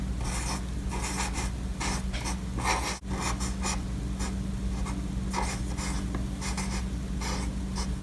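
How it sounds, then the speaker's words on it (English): Silver marker writing on a chalk sticker, close scratchy strokes in short bursts with brief pauses between letters, over a low steady background hum. "I'm going to go ahead and take my silver marker and I'm going to use it to write date night on"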